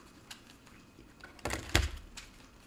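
A few soft, close knocks and thumps of a bedside table, scattered and irregular, with one louder bump in the middle.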